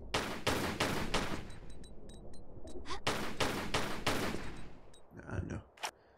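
Pistol shots fire at crates in the 1999 PC game Tomb Raider IV: The Last Revelation, landing in quick bursts of sharp, loud reports with brief pauses between them and a few softer game effects near the end.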